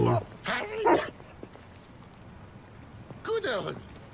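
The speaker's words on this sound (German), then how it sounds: "Guter Hund." A dog barks in the Detroit: Become Human video game, with two bursts of barking and whimpering a few seconds apart over quiet game ambience, and people talking around it.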